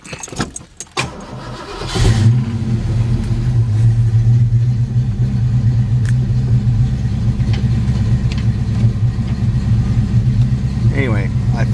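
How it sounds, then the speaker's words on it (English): A Ford Mustang with the clutch pushed in, recently fixed for a bad plug wire resting against a dented header, cranks briefly and catches, then settles into a loud, steady, deep engine rumble close by. "I think I'm gonna crank it up one more time"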